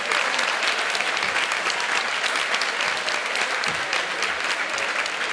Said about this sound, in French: Fait encore une fois, une bonne main d'applaudissements pour tous nos employés municipaux.